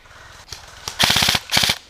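Airsoft gun firing during an outdoor attack-and-defence airsoft game, two quick bursts of sharp rapid clicking shots, the first longer and the second shorter, loud and close with no talk.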